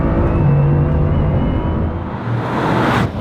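A Bugatti Chiron Pur Sport with 1500 horsepower accelerates hard, its engine a deep, loud, steady roar and rumble heard close by with no talking.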